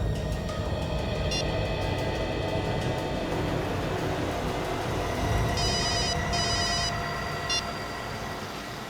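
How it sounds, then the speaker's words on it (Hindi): A mobile phone rings as a call is placed. Short, bright bursts of ringing tone repeat over the steady rumble of traffic at a taxi stand, and no one speaks. "अपने मोबाइल से उसे फोन लगाओ"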